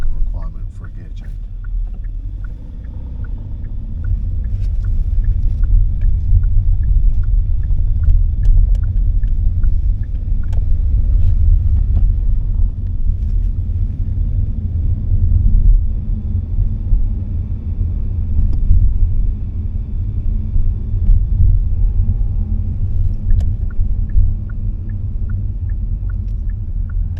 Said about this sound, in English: I just went across a roundabout at near 30 in 4th gear, and the car was absolutely fine.